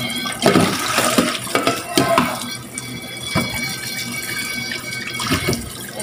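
Tap water runs steadily as cassava root is washed by hand in a sink, with splashes and knocks from handling the roots.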